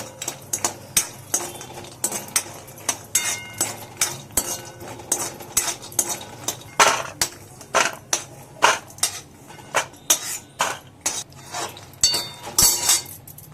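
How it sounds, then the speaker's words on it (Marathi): Cashews and almonds roasting in a little ghee in a kadai for makhana kheer, stirred with a metal spoon. Rhythmic clinks and scrapes of metal on the pan repeat close up and steadily throughout, with no talking. "कढईमध्ये मी काजू आणि बदाम थोडेसे परतवून घेते"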